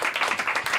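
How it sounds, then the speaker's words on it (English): Steady applause from a comedy club audience as a comedian walks to the stage, a dense continuous wash of clapping, close and even with no talking. "keep clapping for him until he gets to the stage"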